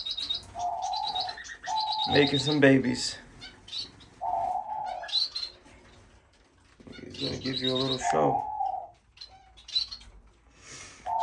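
Finches chirping in cages in a bird room, repeated short high tweets and trills coming in clusters, close by, while someone talks over them.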